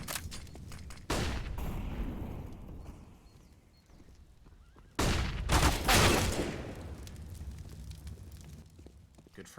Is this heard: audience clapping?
no